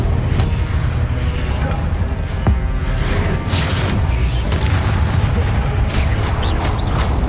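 Loud explosive boom of the Incendio fire spell being cast in a spell-casting sequence, a dense rumbling blast with crackling bursts over continuous heavy background noise.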